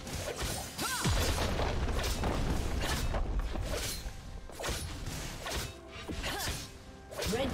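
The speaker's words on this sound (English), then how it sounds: "Red team's turret has been destroyed." A League of Legends turret is destroyed amid a chaotic top-lane fight between Fiora and Vayne, with repeated crashing, smashing impacts, whooshes and whipping strikes layered rhythmically, fairly quiet overall.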